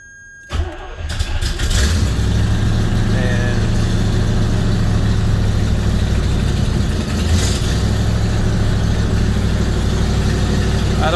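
A 1977 Corvette engine cranks and fires up, then settles into a loud, steady, rumbling idle held close by, with a slight rise in revs partway through.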